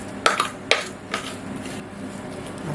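Chickpea dough is stirred in a dish with a utensil, producing a few sharp scraping knocks against the dish followed by softer, fainter scrapes.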